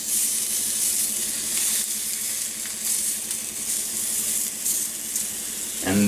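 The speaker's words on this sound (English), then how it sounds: "Listen to that sizzle." Sausages fry in a pan with a steady, loud crackling sizzle that holds evenly throughout, with a brief clink near the end.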